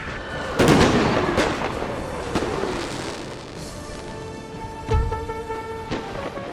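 Cannon barrage from a Napoleonic-era American Civil War battle in a strategy game: heavy booming blasts with crackling bursts, a loud cluster near the start and another deep boom later, over a continuous battle rumble.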